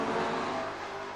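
Sports sedan race car under hard braking while battling for position in a race, a steady loud engine roar with rushing noise, brief and unbroken, with no voices.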